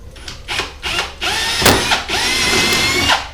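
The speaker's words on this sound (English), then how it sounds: "Now we've got 4 holes drilled at the top, that way, right the way through." A power drill bores holes through a plastic pipe for a DIY hydroponic garden tower, with short whirring bursts that give way to a longer sustained grinding run, loud and close, with no talking.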